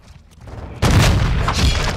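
Video game decoy grenade simulating gunfire during a Hardpoint match: after a quiet lead-in, a sudden loud burst of rapid crackling shots and booms erupts and keeps going.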